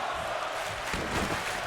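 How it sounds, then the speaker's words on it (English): Crowd noise rising from the arena during a WWE 2K20 video game wrestling match, a dense sustained roar that swells midway, suggesting chanting fans. "Crowd chanting, this is awesome, and this is awesome."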